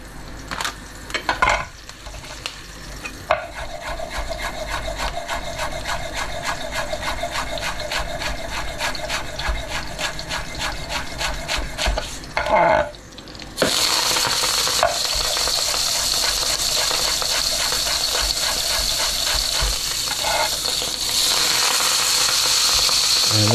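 Parsley being stirred into anchovy pasta sauce as it fries in a pan on an induction hob, with steady close sizzling and repeated scraping strokes of the spoon; the sizzle grows louder and brighter partway through.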